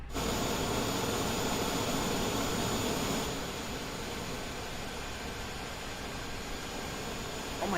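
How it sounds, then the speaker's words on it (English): A jet airliner in Microsoft Flight Simulator pushes back from the gate on reverse thrust, giving a loud, steady engine roar with broad hiss that eases slightly partway through and then holds, with no talking. "We'll just push back with reverse thrust."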